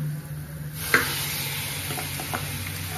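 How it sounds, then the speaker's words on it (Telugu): Mutton pieces stirred into masala paste for a mutton pulao, a steady close sizzle of frying with a few scraping clinks of a spoon against the pan. "మటన్ వేసుకొని ఈ పేస్ట్ అయితే ఏది ఉందో ఇది మటన్ పీసెస్కి బాగా పట్టేదాకా పట్టేటట్టు కలుపుకోవాలి"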